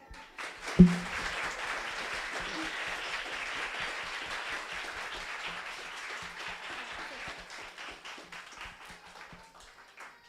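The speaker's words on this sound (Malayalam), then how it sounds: "ഇത്രയും കയ്യടി പോരാ അതിന്" Sustained applause from an audience at a Sunday school anniversary event, dense clapping that starts with a sharp hit and continues steadily for about ten seconds before tapering slightly, with no talking.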